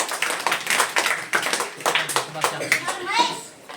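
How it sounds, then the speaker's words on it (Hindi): A classroom of schoolchildren claps for a student, a close, lively burst of irregular hand claps with children's voices chattering and calling out over it. "जोरदार ताली बच्चे के लिए।"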